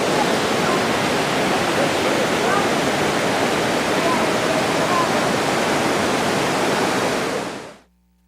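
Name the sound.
waterfall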